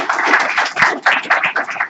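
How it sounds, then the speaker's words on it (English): An audience at a talk on BIM applauds a speaker: dense, loud clapping from many hands fills the room for about two seconds. "So if you all wanted to give a round of applause to Neill"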